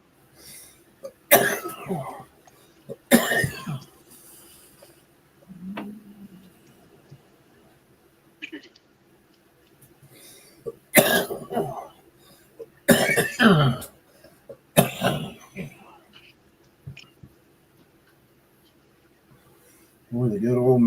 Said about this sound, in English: With a good old marijuana cough.